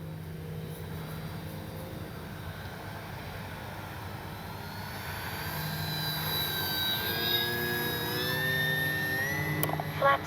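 An FMS CJ-6 radio-controlled model airplane making a slow flyby: a faint, whining electric motor drone that grows gradually louder and rises in pitch as it approaches, with a steady background hum and no talk.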